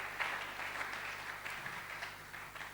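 Church congregation applauding and acclaiming the Lord during a worship service, a faint, continuous wash of clapping from a large room, heard from a distance without distinct individual claps.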